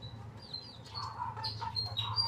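Pet birds sharing one cage chirp in short thin high tweets, several scattered calls close by over a low steady background hum.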